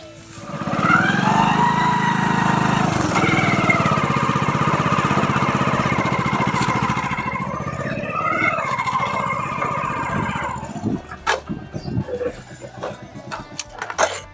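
A 500-rupee tank's worth motorcycle engine runs close by at a loud steady idle and revs for several seconds, then fades into scattered knocks and shuffles, with voices faintly in the background.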